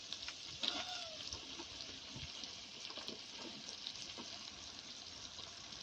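A faint, steady sizzle of chopped bottle gourd going into softened tomato masala in a pan. A few soft clinks and scrapes from stirring sound over the constant frying hiss, and nobody talks.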